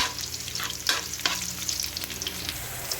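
Garlic sizzling in hot oil in a pan while being stirred, with a continuous frying hiss and a few sharper scraping strokes of the utensil, close up and without speech.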